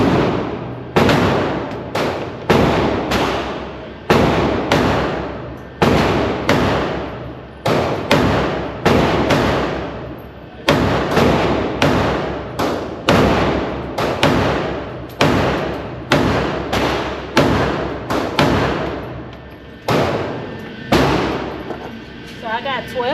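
A Girsan MC14 .380 semi-automatic pistol fired repeatedly outdoors, loud sharp reports in steady strings of evenly spaced shots with short breaks, each crack followed by a brief decaying echo.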